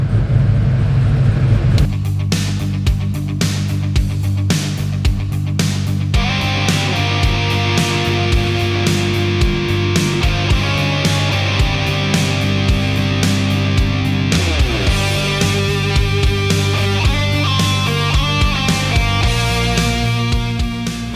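A powerful race car engine roars loudly and continuously, revving up and down with a deep, rough rumble at close range.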